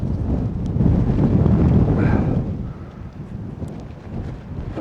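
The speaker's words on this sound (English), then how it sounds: "Not very easy actually with the wind pressing against the tent" Strong storm wind of over 50 mph buffeting a Fjern Stormgrotta 1.5 tent, a loud, close, continuous roar with rushing gusts that ease slightly toward the end.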